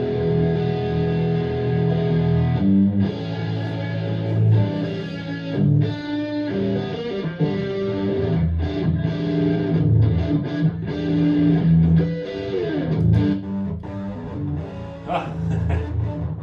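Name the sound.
guitar through old Marshall amp head with raw distortion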